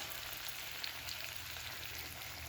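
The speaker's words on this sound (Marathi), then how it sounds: "तेही आपल्याला छान असं परतून घ्यायचं आहे" Red chili powder sautés in oil with a spoonful or two of water added, a soft, steady sizzle at low volume with faint crackles, heard close and alone.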